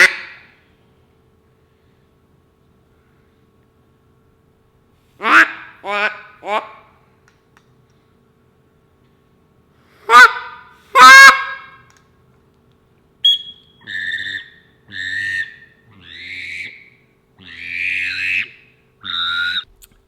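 Duck and goose hunting calls are blown in short bursts: a few sharp reedy quacks and honks, then a longer string of rhythmic, honking call notes near the end, separated by silences, loud and close.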